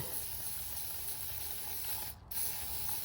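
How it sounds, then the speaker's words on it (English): A continuous hissing spray of lubricant from an aerosol can onto a dry Reed-Prentice lathe tailstock quill, close and steady, with a brief pause near the end before spraying resumes. "I think because this is dry, I'm going to spray this."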